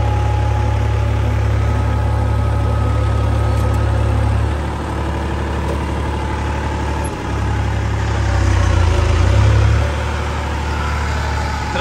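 A farm tractor engine idles steadily nearby, a low continuous rumble that dips briefly and swells slightly louder toward the end, with no talk over it.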